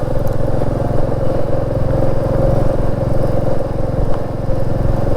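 A Royal Enfield Meteor 350 motorcycle chugs steadily over a rough road, its loud thumping single-cylinder exhaust beat close and constant, with rattles and clatter from the bumpy surface mixed in.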